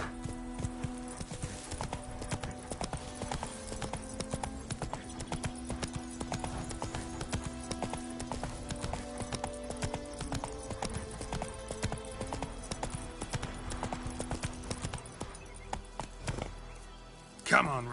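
Horse hooves clip-clop steadily at a gallop in The Witcher 3, a continuous close rhythm under game music and a voice.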